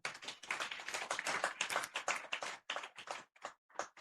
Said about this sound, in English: Let's have the applause again.